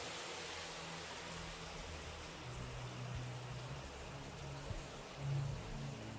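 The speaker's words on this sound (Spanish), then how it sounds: "Lluvia y música apareciendo de a poco desde el fondo." Steady rain hisses as a broad wash at the opening of a metal song, with faint low music tones starting to surface beneath it and no voices.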